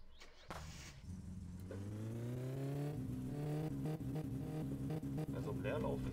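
Car engine in the My Summer Car video game, running steadily at idle and then revving upward with rising, droning harmonics, loud and continuous, with someone talking over it.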